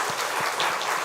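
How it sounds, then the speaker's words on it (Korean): A Korean church congregation claps to cheer on a departing family, a loud, dense, close burst of applause that fills the whole moment. "우리 한번 박수로 응원하겠습니다."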